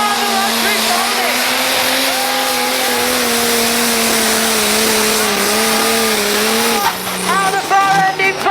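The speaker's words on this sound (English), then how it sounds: "listen to the RPMs out of that machine" A pulling tractor screams at high revs during a night tractor pull at Great Eccleston, its engine note holding loud and steady with rising harmonics before breaking into choppier bursts near the end.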